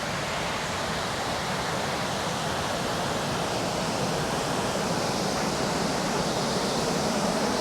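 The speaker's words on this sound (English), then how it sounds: "I wanted to come down here and see the dam and waterfall from the back side here" The waterfall at the dam at Mammoth Spring State Park, Arkansas, gives a steady, dense roar of falling water that fills the whole clip at an even, close level, with no voices.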